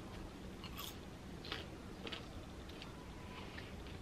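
Someone bites into a popcorn and chocolate snack close up: quiet, irregular crisp crunches spaced across a few seconds.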